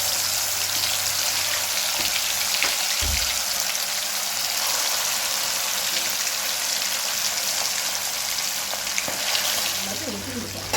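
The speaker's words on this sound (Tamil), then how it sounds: "நம்ம ஃபிஷ் ஃப்ரை பண்ணிக்கலாம்" Marinated fish frying in hot oil, a loud continuous sizzle and hiss with a few low thumps and clinks near the start, steady throughout and without talk.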